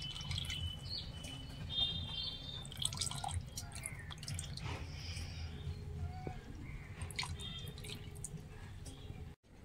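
Syrup drips from rasmalai sweets as they are gently squeezed by hand, giving soft, scattered drips over a steady low kitchen background hum throughout.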